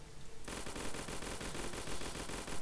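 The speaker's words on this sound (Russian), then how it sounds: "это автомат, штурмовая винтовка" Rapid automatic fire from an assault rifle in a modded Starbound game, a dense, loud burst of evenly spaced shots running steadily after a brief lead-in.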